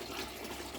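Water pours steadily into a chicks' drinker, a brief continuous splashing rush heard close up with no voices.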